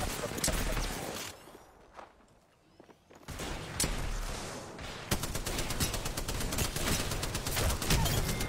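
Rapid automatic fire from a Spitfire machine gun in Apex Legends, with sustained bursts and a brief lull, loud and close, dense and rattling toward the end.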